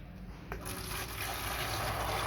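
Water poured into plastic gallon containers used as self-watering planters for Chinese kangkong, a continuous close splashing rush that starts softly and grows fuller and louder.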